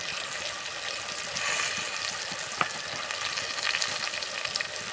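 Tomato pieces frying for an egg masala curry give off a steady, close hiss of sizzling oil, with light stirring and a brief knock around the middle.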